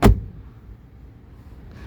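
A single solid thump of a 1983 Mercedes 300D door closing and latching, loud and close, followed by a quiet, low rumbling tail.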